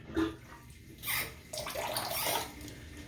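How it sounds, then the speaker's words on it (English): Water draining out of a bathroom sink after a double edge razor wet shave, heard as gurgling, splashing bursts that come and go, moderately quiet and close. "now what I do is I'll go ahead and let the water out of the sink"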